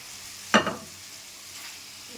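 Kaiyabhol fish slid into hot oil and spices for a Bengali fish curry sets off one sudden, loud hissing sizzle burst that fades within a fraction of a second, leaving a quiet pan.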